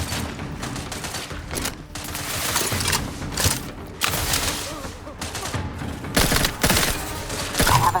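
Rapid gunfire from The Outer Worlds 2, a steady, loud stream of overlapping shots and bursts with sharper peaks near the end.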